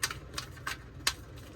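Tarot cards riffle and snap together during a shuffle, a handful of crisp, light clicks spread over a brief moment, fairly faint and with no one speaking.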